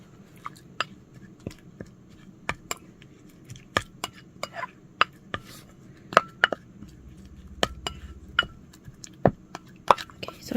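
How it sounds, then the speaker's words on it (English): A small rabbit mixer stirs sculpt mold and water in a container, giving a steady series of sharp clinks and taps against the sides, irregular in rhythm and close by, with no talking. "Let's take our little rabbit mixer here."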